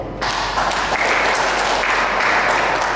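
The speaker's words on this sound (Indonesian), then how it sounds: "Tepuk tangan buat Tuhan." An audience at the opening of a library and computer technology training event in West Papua breaks into loud, dense applause that stays steady for about three seconds.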